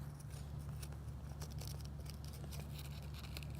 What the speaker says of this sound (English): First thing we do is going to cut this GO away.